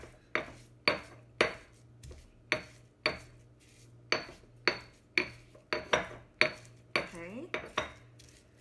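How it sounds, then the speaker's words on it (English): A pestle pounds and grinds a thick, dry paste in a kitchen mortar. Sharp, regular knocks ring out close by, about one every half second, and a voice briefly speaks. "If you've never used a mortar and pestle before, they're a really great kitchen tool."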